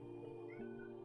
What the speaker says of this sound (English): I don't know if you guys can hear him meowing at me.